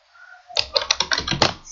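A computer keyboard is tapped in a quick run of about ten distinct clacking keystrokes, typing a service restart command on a Cisco CUCM system, heard close and alone without talk.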